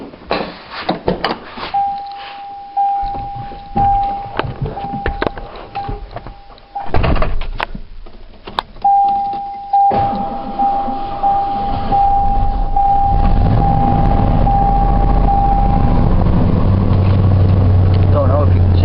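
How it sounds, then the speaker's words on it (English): A 1989 Ford F-150 with 85,000 miles cold-starts: a steady chime and key clicks, cranking bursts, then the engine catches and settles into a loud, continuous low idle rumble close by. "Gonna do a cold start."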